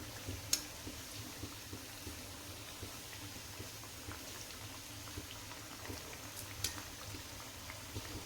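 Chana dal masala vada frying in hot oil, giving a quiet, steady bubbling hiss with a few faint pops and crackles scattered through. No voices are heard.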